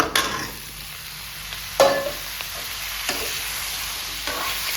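Vegetables and drumsticks sizzle and fry in a pan with browned onions, a steady hiss broken by a few sharp clinks and scrapes of stirring, close and continuous with no talking.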